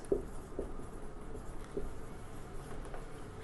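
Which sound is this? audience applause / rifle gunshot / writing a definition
writing a definition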